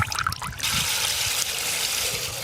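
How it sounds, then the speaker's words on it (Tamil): Strawberry essence is poured for making pipe ice, a brief liquid trickle and splash that follows a moment of talk and then settles into a steady pouring stream. "என்னப்பா என்ன ஊத்துதப்பா? Strawberry essence."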